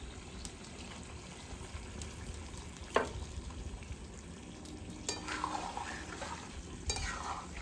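Spicy restaurant-style chilli chicken is stirred in a pan with ground garam masala: soft, intermittent scraping strokes over a low, steady sizzle, with a few sharper clinks.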